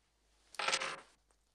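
A bunch of keys dropped onto a hard surface, one short bright metallic clatter with jingling that quickly dies away, then a faint small clink, heard close in a quiet room.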